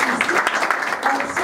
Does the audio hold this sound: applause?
yes